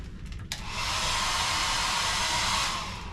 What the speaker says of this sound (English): So there is a hairdryer. Is it powerful?